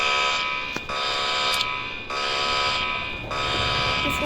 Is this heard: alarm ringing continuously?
yes